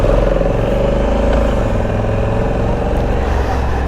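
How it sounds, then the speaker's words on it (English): A Honda Africa Twin 1100 DCT motorcycle engine runs with a loud, close, steady low rumble that holds an even note throughout, with no talking. "Let's hear the note once. It has a turbo sound. It has a sweet turbo sound."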